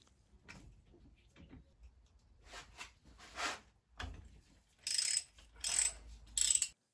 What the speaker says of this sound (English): Now we can remove the spark plugs.